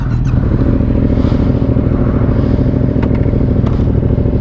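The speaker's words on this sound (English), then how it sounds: "let Dan lead, and oh yeah, gives a blip" A motorcycle ridden on the Woodhead Pass road in the Peak District runs loud and close with a steady engine drone, with faint clatter and wind noise over it.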